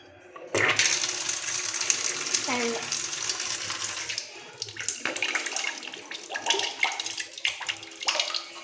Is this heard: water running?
yes